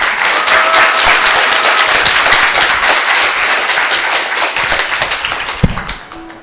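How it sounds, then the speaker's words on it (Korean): An audience at a church camp testimony gathering applauds, a dense, steady wash of many hands clapping that fades slightly toward the end, with a single sharp knock near the close. "한 번 더 박수 부탁드리겠습니다"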